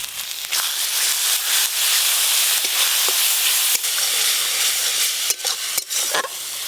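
Spice paste with chili powder, turmeric, grated tomato and salt being fried and stirred in hot oil for a tilapia curry, a loud continuous sizzle with scraping spoon strokes and occasional sharp clicks, close up.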